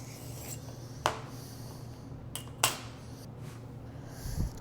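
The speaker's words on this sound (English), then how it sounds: "Smoothing that surface with the rib, giving a nice blank canvas for the texture." A rib smooths the surface of a soft clay slab resting on sheetrock: quiet rubbing with a few sharp scraping strokes standing out against a faint background.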